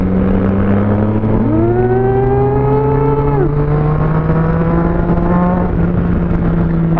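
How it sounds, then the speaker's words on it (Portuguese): A car engine revs hard and holds against the rev limiter, a loud steady high-rpm drone with a sharp pitch climb partway through. Nearby it is close and continuous, with no talk. "Olha o cortador de giro, velho."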